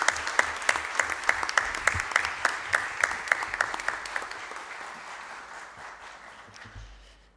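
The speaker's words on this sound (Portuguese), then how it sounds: "A quem eu peço uma salva de palmas por toda a luta." An audience at a solemn session for the Tiradentes Medal applauds Roberto Amaral, with distinct individual claps over steady clapping that slowly fades away.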